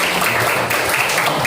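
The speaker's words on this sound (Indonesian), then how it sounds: "kita kasih tepuk tangan yang keras untuk diri kita sendiri" A group of school students applauding themselves in a classroom, a dense, loud wash of clapping throughout a short burst.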